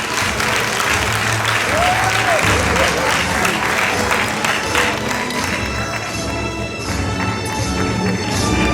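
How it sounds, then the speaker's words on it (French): An audience at a graduation ceremony applauds steadily, with dense, sustained clapping from many hands filling the space and a few faint cheers and voices mixed in, continuous throughout. "Applaudis pour nous, Diac Dunois."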